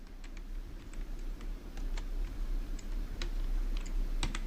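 Quick, light clicking of keys on a computer keyboard as a search is typed into Google, with irregular taps over a low steady hum and no talking.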